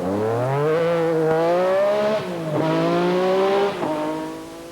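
A Metro rally car on a 1986 RAC Rally stage drives by close, its engine revving hard through gear changes with rising pitch, loud and alone, dropping briefly between shifts.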